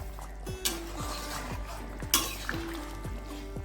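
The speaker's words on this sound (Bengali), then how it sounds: "এবার আমি ঢাকনাটা তুলে নিচ্ছি ঢাকনাটা তুলে দেখে নিচ্ছি পনেরো মিনিট পর" A metal lid comes off a pot of simmering potato curry (aloo dum made with new potatoes) with a sharp clank near 2.1 seconds, while a faint sizzle and soft scraping run steadily underneath.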